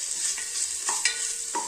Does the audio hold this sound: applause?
no